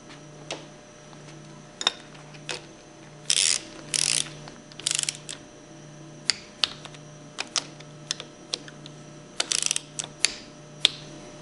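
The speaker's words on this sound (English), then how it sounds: "Reinstall the end cover bolts and torque them between 100 and 110" Ratchet clicks in quick bursts while torquing the end cover bolts on a pump held in a vise, sharp close ratcheting runs separated by short pauses and single ticks.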